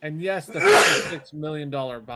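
A sharp, forceful sneeze bursts out between stretches of someone talking, close to the microphone.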